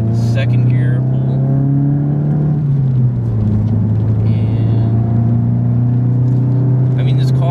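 A VW GTI with a muffler delete pulls hard in second gear, its engine drone climbing steadily, then dipping briefly before rising again, loud and close from inside the cabin.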